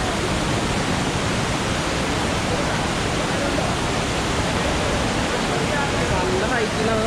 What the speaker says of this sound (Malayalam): നല്ല ഹൈറ്റിലാണ് വെള്ളം ഒഴി വരുന്നത്